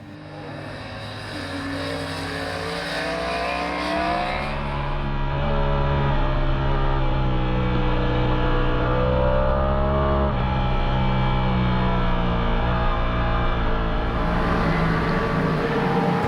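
Motorcycle ridden hard on track at Silverstone, a loud, close engine drone climbing steadily in pitch through the gears and holding a high, sustained roar, with no talking.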